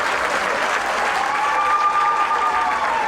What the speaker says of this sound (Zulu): akhala ihlombe